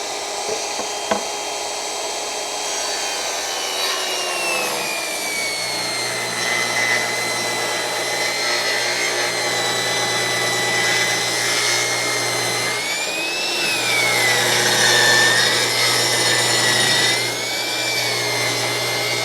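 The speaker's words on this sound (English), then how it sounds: "start cutting them on the miter saw" A miter saw cuts through wooden boards in a long, loud, steady whine of the running blade, its pitch wavering as the wood is fed, with a low hum underneath and no talk.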